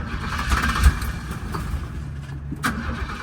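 A 1969 Cadillac engine cranking over and over on the starter without catching, a loud close rhythmic churning with a brief sharper burst near the end, no voices.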